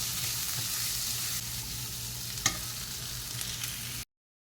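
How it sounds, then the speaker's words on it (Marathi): Shelled green soybeans go into masala frying in oil, a steady close sizzle with occasional stirring clinks and one sharper knock, ending abruptly in silence, with no speech. "मसाला सोयाबीनचे दाणे सोललेले त्यात टाकते आहे ते हलवून घ्यायचं"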